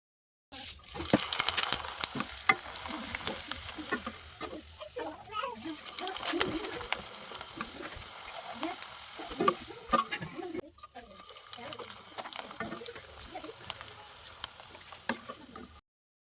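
Flour-only pitha cakes fry in hot oil with a steady crackling sizzle, with stirring clatter and brief pauses, some soft voice-like sounds, and a short silent break near the middle.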